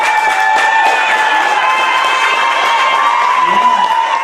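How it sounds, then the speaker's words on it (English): A crowd cheers and claps to welcome the St. Kitts Nevis Carifta team at a welcome ceremony, with loud, continuous shouting, whistles and excited voices layered over scattered applause. "Cheers and applause as the St. Kitts Nevis Carifta team arrived at a welcome ceremony and press conference"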